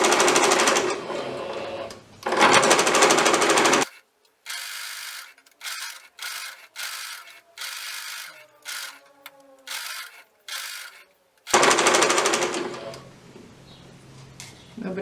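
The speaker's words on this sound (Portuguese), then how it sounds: "Vamos lá pra máquina. Vou dar um retrocesso aqui no começo. E vou costurar em cima do risco." Sewing machine stitching a plush teddy bear along a traced line, with bursts of continuous mechanical whirring interrupted by a quiet stretch of short, rhythmic stitch runs before the steady whirr resumes.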